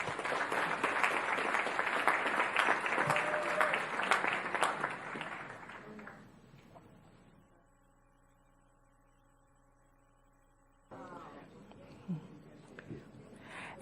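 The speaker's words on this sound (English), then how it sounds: "Let's give them all a round of applause." An audience at a county recognition ceremony claps loudly for about six seconds before the applause dies away to a low electrical hum, then a few voices and movement return near the end.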